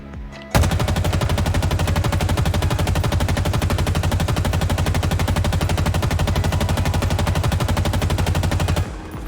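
Assault rifle in Halo Infinite fired in one long continuous burst of rapid evenly spaced shots for about eight seconds, loud and close, ending abruptly, with no talking.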